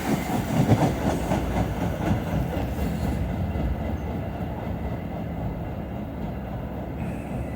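An MBTA commuter rail train to Needham Heights rumbles into Forest Hills station. Heavy wheels roll and clatter loudly at first, then the noise settles into a steadier, quieter roll as the train slows.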